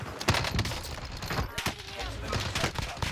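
Rapid gunfire from a Warzone match on Fortunes Keep, loud dense bursts and sharp shots stacked over steady game noise, with a voice speaking briefly amid the fight.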